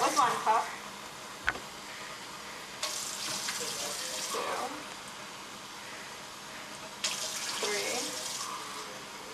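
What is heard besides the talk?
water running from a sink tap into a pot of rice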